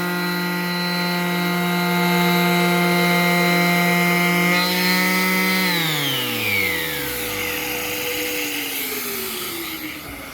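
A Festool sander with its dust-extraction vacuum runs on a wood shelf, a steady whine that winds down as the motor spins to a stop, leaving a softer airy hum at the end.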